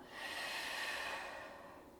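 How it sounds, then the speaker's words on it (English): A single slow, close breath during a yoga stretch, soft airy exhale swelling then fading, with no talking. "Breathe in. Breathe out."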